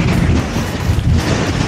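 Strong wind buffets an outdoor microphone on a hilltop burial mound, a dense, steady low rumble with gusty swells throughout, heard alone.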